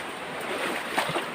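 Strong river current rushes in a broad, steady wash of water noise, loud and close, with no distinct voices over it.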